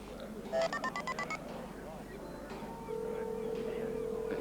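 Quiet telephone dialing tones beep in a quick run of about eight keypresses in a 1990 French TV film, and a steady tone follows, with faint background noise.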